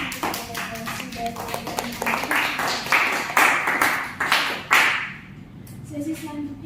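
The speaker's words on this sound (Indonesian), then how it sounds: "mari kita berikan tepuk tangan terlebih dahulu untuk delegasi dari" Scattered clapping from a small group of delegates at a model ASEAN summit meeting, irregular claps building to a denser burst before fading, with a voice beginning to speak at the end.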